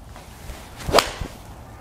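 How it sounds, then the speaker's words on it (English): A golf swing with a 7-iron produces one sharp whooshing strike about a second in, with faint rustle before and after it. "So let's hit 7-iron."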